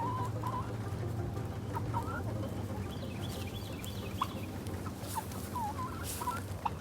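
Chickens and hens cluck softly at a distance in a yard, short scattered calls over a low steady background hum, faint throughout.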